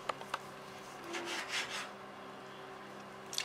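A knife saws through rested cooked pork on a board in a few soft rubbing strokes, faint and close, with light taps at the start and end.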